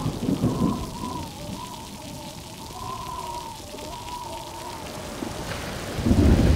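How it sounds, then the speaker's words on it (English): Heavy rain pours steadily with rumbling thunder as a sound effect for an animated story of a great flood, a continuous wash of falling water with deep low rolls swelling at the start and end. "more rain fell each day until the entire earth was covered with water"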